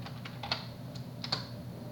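Light keystrokes on a computer keyboard while a folder name is typed into a Git command line: a sparse handful of quiet, crisp clicks over a steady low background hum.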